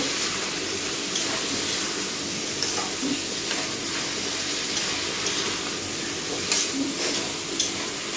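Rice and lentils for khichuri are stirred in a cooking pot, producing a steady sizzling hiss with occasional soft scrapes and clinks, fairly close and unbroken by speech.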